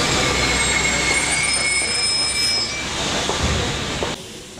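A Paris metro train rolling through the underground, its wheels squealing loudly and continuously with high metallic screeches over a dense rumbling roar that drops off near the end.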